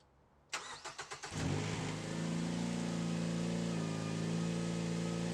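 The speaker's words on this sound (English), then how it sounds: "So we're going to fire it up and see what happens." A Ford Fusion 2.3 engine, just fitted with a new valve cover, cranks in several quick pulses, then catches and settles into a steady, close idle.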